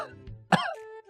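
A human voice imitates a goat's cough: a short, rough, throaty burst with a bleating, strained tone, preceded by brief murmured sounds and followed by a lingering nasal hum, close and fairly quiet.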